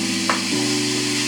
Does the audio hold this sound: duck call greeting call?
no